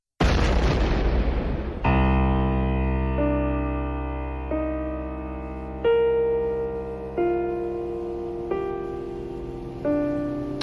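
A bomb blast in the waiting room of Plovdiv railway station in 1984, set beside a telephone booth: one loud, close boom decays over about two seconds, followed by slow, sombre music chords.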